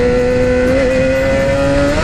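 A motorcycle in first gear revs hard as the clutch is released for a wheelie: a loud, close, steady engine drone whose pitch climbs slightly toward the end, with no voices.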